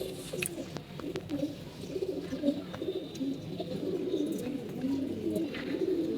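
Pigeons kept in a loft, including a sick bird, coo steadily in a low rolling chorus throughout, close and continuous, with no talk over them.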